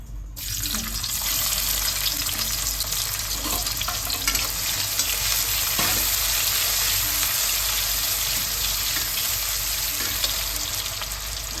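Onions for veg noodles hit hot oil with a sudden loud sizzle that keeps crackling and hissing steadily, with occasional clinks of stirring.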